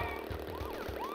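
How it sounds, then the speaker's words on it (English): Wailing police car sirens from the platform game Crash Bandicoot 3: Warped, steady and fairly faint, their rising and falling sweeps overlapping above a constant engine-like hum. "the police cars going left and right like that"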